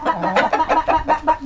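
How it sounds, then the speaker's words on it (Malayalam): Free-range village farm chickens cluck in close, loud, rhythmic bursts, roughly six quick pulses in a row with no talking over them. "ഇപ്പൊ ഞാനിപ്പോ ഇതിന്റെ പിന്നാലെ തന്നെ കോഴി കോഴിയുണ്ട്."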